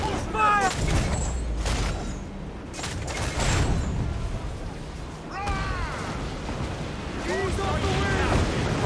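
Ship mortars fire at a fort in the video game Assassin's Creed Black Flag, with deep booms and rumbling blasts over wind and sea noise, several shots spread through the scene while voices call out.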